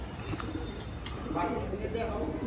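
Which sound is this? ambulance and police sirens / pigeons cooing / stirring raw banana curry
pigeons cooing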